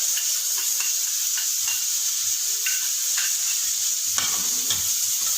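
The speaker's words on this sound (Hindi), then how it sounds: "इसको अच्छे से भून लेते हैं।" Red chilli and dry coriander powders fry steadily in a pan for mutton siri, a continuous close hiss with light, scattered stirring clicks and no talking.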